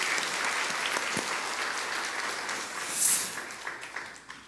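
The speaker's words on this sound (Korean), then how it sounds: "그래서 박수 한번 주세요." A congregation applauds during a Sunday church service, sustained dense clapping at moderate volume that swells briefly and then tapers off, with an occasional sharp knock.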